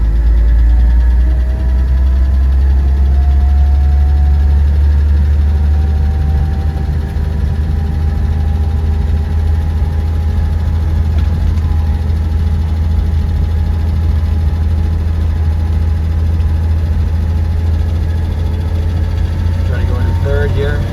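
A 1948 Chevy Fleetline Woodie's engine drones steadily in second gear while driving, a loud, constant low rumble from inside the car with faint tonal whine above it.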